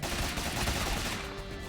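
Gunfire in the action game Rogue Legacy 2, heard as a continuous, dense burst of shooting noise that fills the whole moment at steady loudness, with no voices.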